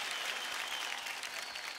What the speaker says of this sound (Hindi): Come on guys, beautiful song के लिए जोरदार तालियां हो जाए।